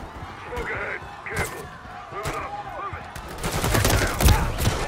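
Rapid bursts of gunfire from the Call of Duty Modern Warfare III campaign, sharp repeated shots over a busy game soundscape, growing denser and louder toward the end.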